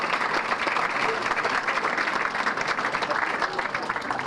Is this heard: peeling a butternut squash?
no